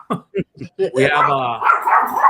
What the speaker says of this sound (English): my dog's getting kind of crazy right now